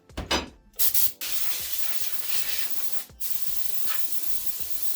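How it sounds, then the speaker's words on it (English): A spray bottle misting down a Kydex holster mold and workbench, several sharp hissing bursts, close and loud, followed by a long sustained spray. "I've sprayed off the mold, the heat press, and the workbench"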